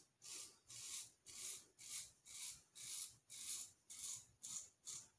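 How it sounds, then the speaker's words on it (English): A razor scrapes across the left side of a face in about ten even, rhythmic strokes, each one a soft raspy rub. The strokes are close and quiet, and there is no talking. "shaving the left side of my face"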